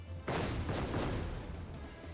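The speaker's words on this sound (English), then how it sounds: "He managed to dodge the first explosion, and the second, the third" Final Fantasy XIV explosions land as a sudden booming burst followed by a couple more blasts in quick succession, the rumble fading into a lingering low tail.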